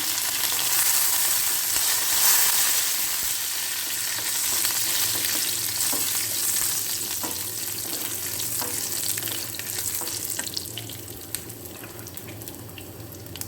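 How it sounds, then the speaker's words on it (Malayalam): Dried red chillies and curry leaves sizzle steadily in hot oil after mustard seeds have popped, while tempering a pumpkin and spinach erissery; a loud, continuous crackling fry with no voices. "കടുക് പൊട്ടി കഴിയുമ്പോൾ 3 ഉണക്കമുളക്, കുറച്ച് കറിവേപ്പിൻ്റെ ഇല ഇട്ട് കൊടുക്കാം."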